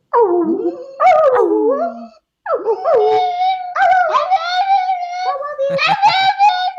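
A pet dog howls in a series of long, wavering, rising and falling cries at close range, with short pauses between bursts; a person's voice may mingle in.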